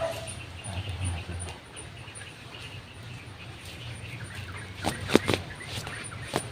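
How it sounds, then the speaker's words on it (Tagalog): A few sharp dog barks ring out near the end, distant-sounding and clustered together, over a low steady outdoor rumble and faint bird chirps. "Yung aso na naman. Nasaan tumatahol?"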